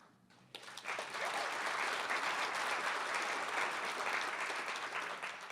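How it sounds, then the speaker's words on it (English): At the State of Everett 2022 address, the audience breaks into applause after a near-silent moment, and the clapping swells quickly into a steady, full roar that holds to the end. "You can clap anytime."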